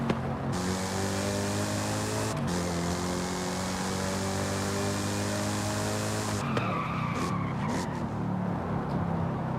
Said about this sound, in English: What a nice sounding engine.